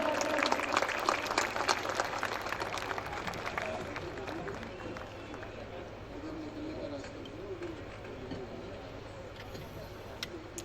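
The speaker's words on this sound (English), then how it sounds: "Please clap, everybody." A graduation-ceremony audience applauds in a steady, sustained wash of clapping that stays even for the whole stretch, over a low constant hum.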